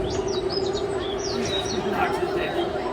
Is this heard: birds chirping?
yes